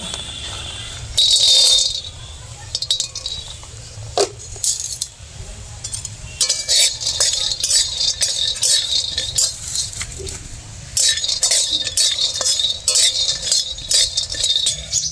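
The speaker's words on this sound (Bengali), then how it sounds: "পেস্তা বাদামটা আমি হালকা আঁচ দিয়ে ভেজে নেব।" Pistachio nuts dry-roasting in a pan over low heat for a vermicelli dessert, nuts rattling and clinking against the metal in bursts of scraping and tumbling, close and fairly loud, with short pauses between stirs.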